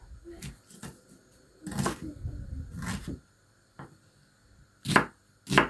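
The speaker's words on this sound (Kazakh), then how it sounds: "Мында пиязды турауға кірісіп кеттім. Майдалап кубик тәрізді турап аламыз." Several sharp knife chops against a board as an onion is diced into small cubes, in short bursts with pauses between them, close and moderately loud, with faint background noise.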